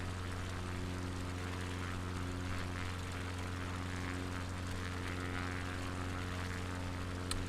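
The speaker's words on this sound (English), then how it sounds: "It's a beautiful day for flying a plane." A propeller airplane drones overhead near the coast with a steady, even engine hum and strong low tones, holding at a constant moderate level with no talk.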